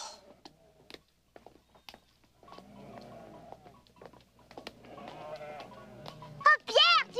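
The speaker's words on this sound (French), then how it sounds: "tu parles d'un troupeau de chèvres" A herd of goats bleating in a Heidi cartoon scene, scattered calls rising toward a loud high cry at the end, mixed with light patter and voices talking.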